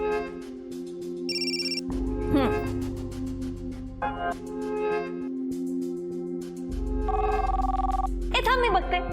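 A mobile phone ringtone plays in short bursts of melody inside a home, with people talking over and between the rings.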